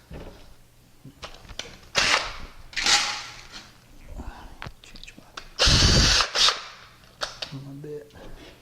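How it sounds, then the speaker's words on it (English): Short bursts of a power drill boring holes in an old steel kitchen cabinet, mixed with clattering and tapping, fairly close, over a noisy background with faint low voices. "let me drill some holes and we'll put that in"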